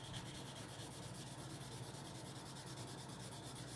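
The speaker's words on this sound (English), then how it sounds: "Just take an earbud and rub it little bit just to merge your shading." A cotton earbud rubs over pencil shading on drawing paper, blending a still-life study: a soft, continuous, close scratchy swish that holds steady throughout with no talk.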